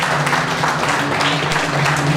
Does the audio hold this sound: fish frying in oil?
no